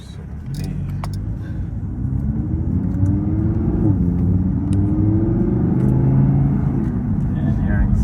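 Audi R8 V10 supercar engine rumbling steadily and building, a low continuous drone that swells toward the end, heard from inside or near the car with people talking over it.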